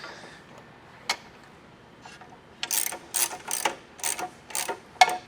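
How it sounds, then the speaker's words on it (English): A ratchet tightens a nut on a switch panel bracket in a 4th-gen Toyota Tacoma or 6th-gen 4Runner. A lone click comes first, then several close bursts of rapid metallic ratcheting clicks. "Now we can take the ratchet, tighten that down, put the nut on there and get that tightened down."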